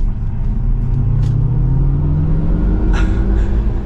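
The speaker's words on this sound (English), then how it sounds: "with a quick acceleration behind the wheel of the Hummer EV" A 2022 GMC Hummer EV Edition 1 crew cab electric pickup accelerating on the road, heard from inside as a steady rumbling road and motor roar with a faint rising whine, fairly loud and continuous.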